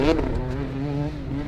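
A motocross motorcycle engine blips its throttle during a jump, a short sharp rev followed by a buzzing, wavering drone that fades slightly, heard nearby with no speech.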